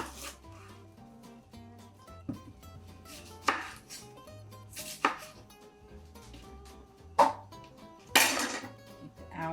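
A knife finely chopping one onion on a cutting board in a home kitchen, with scattered sharp knocks and a few louder strikes over a steady backdrop of soft music, no talking.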